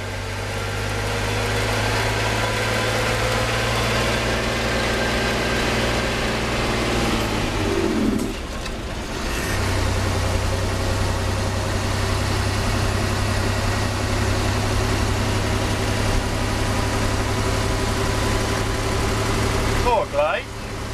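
A Magirus truck engine runs steadily at idle-like revs, then drops briefly as the unsynchronised gearbox is shifted into fifth gear before the engine note resumes; loud, close and continuous, with a short clunk near the end.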